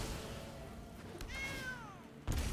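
A cat meows once in a descending call as a card effect in the MTG Arena digital card game, clear against a low background hum, followed by a soft thump near the end.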